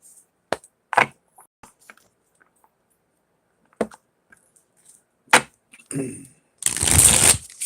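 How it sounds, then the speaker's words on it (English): Tarot cards being shuffled in short bursts, several sharp riffles and taps separated by pauses, ending in a longer, louder riffle. "Alright, last shuffle."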